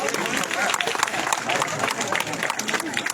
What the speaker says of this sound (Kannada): ಒಮ್ಮೆ ಜೋರಾದ ಚಪ್ಪಾಳೆಯನ್ನ ತಟ್ಟುವ ಮುಖಾಂತರ